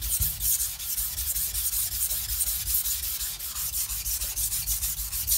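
A knife blade rubbed steadily back and forth across a coarse whetstone, a continuous gritty scraping with even strokes, close and fairly loud with no voices.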